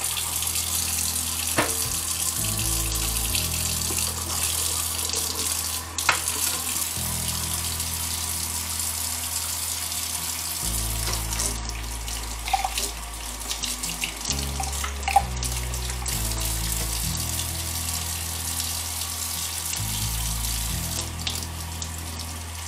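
Hot water runs steadily from a tap into a sink while Surge milker parts are washed with soap, a continuous close splashing flow with no talking.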